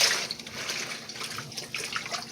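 Leafy greens stirred by hand in a sink or basin of water for soul food, giving a steady close sloshing and splashing wash throughout.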